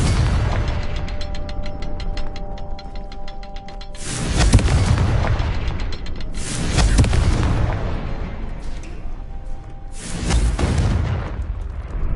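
Repeated blasts of an explosive spell in the Hogwarts Legacy video game, each a loud booming burst with a rushing tail, about three of them spaced several seconds apart over steady game ambience.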